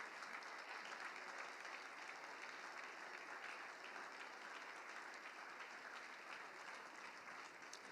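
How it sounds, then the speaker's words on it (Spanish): A church congregation applauds in a dense, continuous wash of clapping that holds steady and even for several seconds, with no voices breaking through. "le damos un fuerte aplauso de alabanza al Señor"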